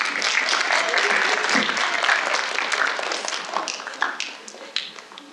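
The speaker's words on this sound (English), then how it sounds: "Give them a round of applause." Audience applause at a school event, a dense, steady wash of many hands clapping that stays loud throughout before thinning slightly toward the end, with a few sharper individual claps standing out.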